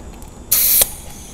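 A short, loud burst of compressed air hissing for about a third of a second during a cylinder leak-down test on an engine, then fading back to a quiet background.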